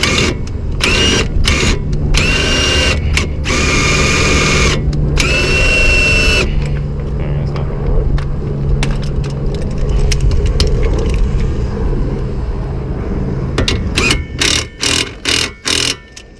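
An impact wrench hammers a strut nut on a 2004-2007 Chevy Malibu during a front strut replacement, loud rattling bursts in short stop-start rhythm up close, then quieter handling noises and a final run of sharp short hits.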